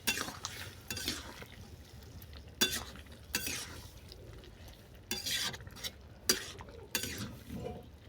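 Peas and fried shrimp are stirred in a pan with a utensil, making repeated scraping strokes in irregular bursts over a soft sizzle, close and without speech.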